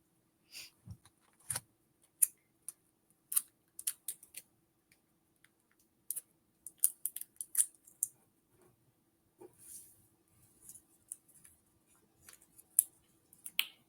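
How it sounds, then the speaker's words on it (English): Scissors snipping by hand through lace for dress appliques, irregular short sharp clicks spaced across near-silence, close and quiet, with no speech. "I'm going to hand cut out lace for the appliques"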